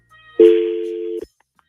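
A single telephone tone sounds once during a phone call placed from a radio show, a clear steady beep of about a second against near silence.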